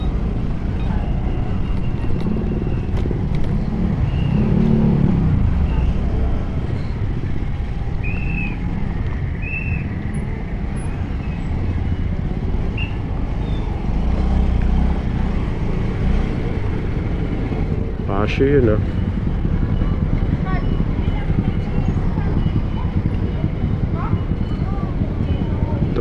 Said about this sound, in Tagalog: Traffic talaga dito sa amin, rush hour.